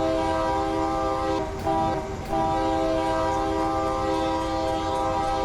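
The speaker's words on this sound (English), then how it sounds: "I like blowing the horn." A freight train horn blares steadily and loud in the Run 8 Train Simulator game on the Fresno to Bakersfield route, its layered chord holding for several seconds over rumbling rail noise, with no talking.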